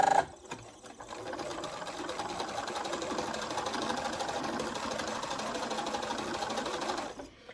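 A sewing machine stitching quilt fabric pieces cut with AccuQuilt dies for an American Angels quilt, running in one continuous close whirr for several seconds after a short pause, then stopping abruptly.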